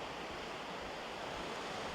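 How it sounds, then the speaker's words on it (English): Ocean surf breaking on a Scottish shore beneath a cliffside, a constant broad wash of distant waves mixed with some wind noise, fairly faint and with no voices. "So that's the sound of the ocean."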